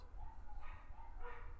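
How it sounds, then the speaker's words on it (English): Dogs bark in the background, muffled and fairly faint, a couple of short yelping barks in quick succession. "Sorry about the dogs."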